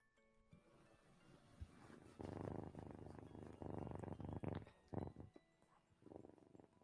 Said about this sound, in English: that is the loudest purring I've ever heard in my life